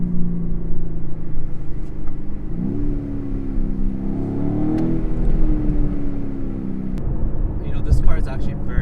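A 2020 BMW M850i coupe with its V8 engine and M Performance exhaust drones steadily from inside the cabin as the engine note rises and falls through gear changes, with someone talking over it.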